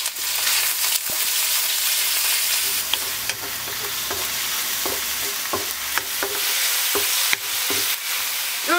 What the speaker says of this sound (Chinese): 先炒葱姜肉，